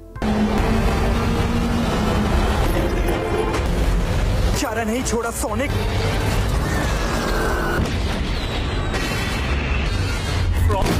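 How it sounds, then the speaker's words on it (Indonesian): Cartoon explosions from a giant robot Big the Cat firing bombs out of its mouth during an animated Sonic Prime battle, loud continuous booms and blasts layered with dense action sound effects and music. "robot Big the Cat beserta serangan bom yang keluar dari mulutnya"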